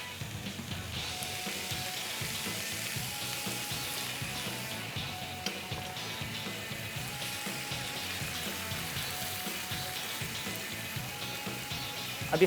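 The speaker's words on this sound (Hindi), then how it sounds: "थोड़ा सा पानी डाल देंगे" A little water is poured into a pan of frying chicken thighs, giving a steady hissing, bubbling sizzle that holds evenly at close range, with no talk.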